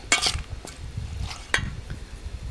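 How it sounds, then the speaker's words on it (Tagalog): Kinilaw being stirred together with radish, onion and ginger, giving a few brief wet clinks and scrapes near the start and again midway, with soft mixing noise in between. "I-mix ko na siya."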